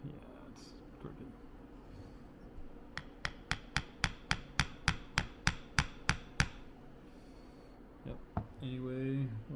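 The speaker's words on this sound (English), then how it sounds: "I'll get a proper hammer here and finish that off." Sharp metal hammer blows, about fourteen in a steady even rhythm, ring out close by during work on a Caterpillar D2 starting engine carburetor, with shop noise before and a voice speaking afterward.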